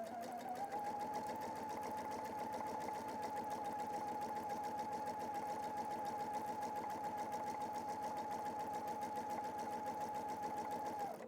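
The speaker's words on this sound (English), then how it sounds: "So I'm going to stitch around so that I come back up to our join again so that you can see how this happens." A PFAFF creative icon 2 sewing machine stitches pintucks in the round with a steady whirring hum. It runs evenly and alone at moderate level for the full length, then stops at the end.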